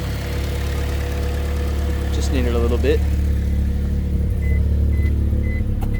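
A car with a freshly swapped Honda B16A VTEC engine idles steadily, a low even engine hum running throughout while someone speaks briefly over it.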